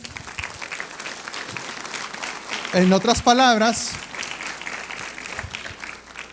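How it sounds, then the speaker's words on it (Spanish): A church congregation at a Sunday service claps in praise, a dense, continuous patter of applause throughout, while a preacher's voice briefly speaks over it in the middle. "Un aplauso al Señor."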